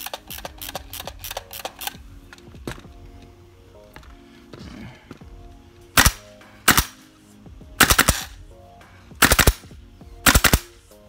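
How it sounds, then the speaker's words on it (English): A WE series airsoft rifle fires BBs on semi-automatic: a quick run of sharp close shots fills the first two seconds, then pairs and bursts of loud cracks ring out at intervals, with no talking. "this thing is shooting nice. That was semi-automatic, by the way."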